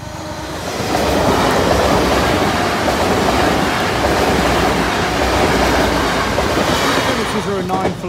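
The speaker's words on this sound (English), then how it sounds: "Train's approaching." A train rumbles steadily past the Boultham level crossing near Lincoln, loud and close from about one second to the end, with a continuous broadband roar and faint rhythmic wheel clatter.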